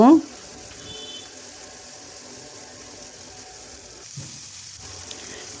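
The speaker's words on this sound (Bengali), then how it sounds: "এখন মাছের এই পিঠটাও আমি খুব ভালোভাবে ভেজে নিব" Rohu fish head frying in a pan gives a steady, faint sizzle throughout, after a brief louder clatter at the very start.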